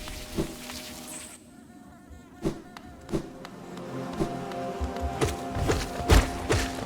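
Beehive area in Hollow Knight, a steady insect buzz droning under the level's ambience, punctuated by scattered thuds and footsteps at an irregular rhythm.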